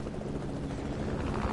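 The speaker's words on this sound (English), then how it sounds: "He has a chopper." A helicopter in the Fortnite video game drones with a steady, dense rotor roar that stays loud and close throughout, with no talk.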